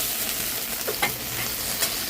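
Ginger paste frying in a pan for a spicy Bengali crab curry with potatoes and onions, a steady close sizzle with a few brief stirring scrapes.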